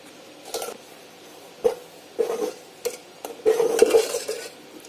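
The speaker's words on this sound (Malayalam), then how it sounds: "ഇത്രയും ചേർത്ത് നമുക്ക് നല്ലവണ്ണം ഇതൊന്ന് മിക്സ് ചെയ്തെടുക്കാം" Appam batter sweetened with a large spoonful of sugar being stirred in a bowl, with a run of scraping, clinking spoon strokes in irregular bursts, fairly close and alone without talk.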